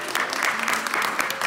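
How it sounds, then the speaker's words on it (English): A small group claps at a christening right after a closing prayer, a brief burst of close, lively applause filling the room. "applause for our new"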